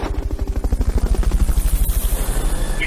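A Fulton recovery helicopter from the video game Metal Gear Solid Peace Walker, its rotor chopping in a loud, steady, rapid rhythm that runs unbroken throughout.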